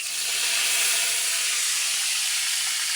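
Frog pieces fry in hot oil with a dense, steady sizzling hiss heard close up, with no talk.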